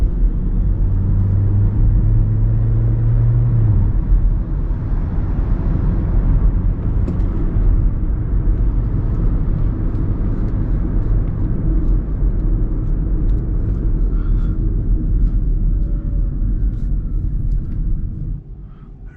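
Hyundai Ioniq Hybrid driving in sport mode, heard from inside the cabin as a steady low road and engine rumble, constant and fairly loud throughout, with a brief low hum near the start and no talk.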